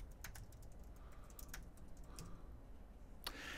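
Soft keystrokes tap on a computer keyboard as a password is entered, a quiet, uneven run of clicks with a louder final press.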